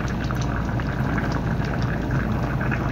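Chicken soup for molokiya with dried lemon and long chili simmering covered in a pot, a steady close bubbling and gentle liquid burbling with no break and no voices.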